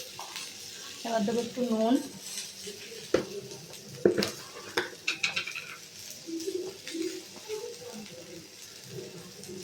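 Ridge gourd frying in spiced oil with turmeric added, stirred around the pan with crackling sizzle and scraping strokes while someone talks over it.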